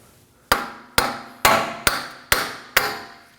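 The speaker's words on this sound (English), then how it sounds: "Next, we're going to tap on the axle to make sure that it's free from the hub." A hammer taps the front right CV axle of a 2014-2020 Acura MDX with the 3.5L V6 to free it from the hub. Six sharp, ringing metallic strikes land at a steady pace and sound close and loud, with no talk.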